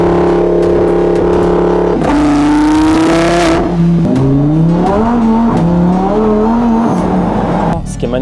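A Lamborghini Huracán STO revs and drives at easy pace, its engine note climbing and falling in smooth harmonic sweeps, loud and close, with a person talking over it throughout.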